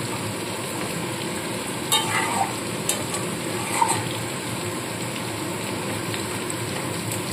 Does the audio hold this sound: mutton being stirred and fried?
yes